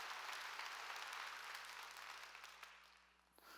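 Church congregation applauding during a sermon, a broad steady wash of clapping that gradually thins and fades toward the end.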